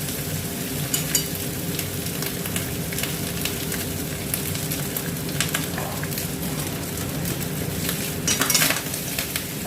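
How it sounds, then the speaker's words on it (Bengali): Cooked Dehradun rice stirred and fried in a pan for Chinese fried rice, a steady sizzle with continuous scraping and stirring throughout, brief louder metallic scrapes near the end, no voices. "এটা ভালো করে নাড়তে হবে।"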